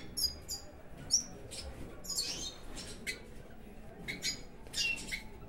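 Captive Brazilian goldfinches in a breeding aviary in São Paulo, chirping and squawking in scattered short, high calls over a steady background hiss, fairly faint and irregular.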